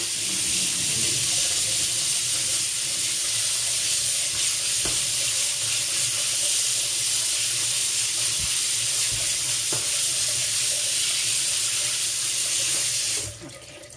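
Tap water runs steadily over blackberries being washed in a sink, a continuous broadband rush with a few faint knocks, close and loud, before the flow stops near the end.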